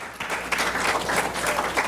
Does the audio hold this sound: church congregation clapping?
yes